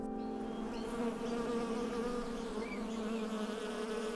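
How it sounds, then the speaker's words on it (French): Steady, dense buzzing of many bees close by, a continuous drone with no voices. "il y a des abeilles"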